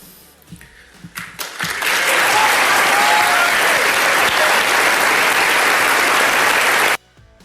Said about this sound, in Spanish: Aplauden por la autocrítica